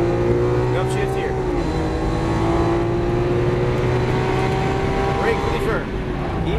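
Lamborghini Aventador LP700-4 engine revving steadily under throttle, a loud continuous drone that climbs gradually in pitch, heard from inside the car beneath a calm instructing voice.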